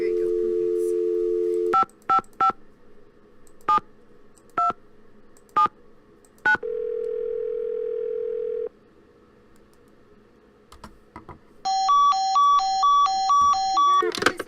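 Telephone keypad tones in the game Secret of the Scarlet Hand: a dial tone, then a series of short beeps at uneven intervals, a second sustained tone, and a fast regular run of beeps near the end, loud and clear.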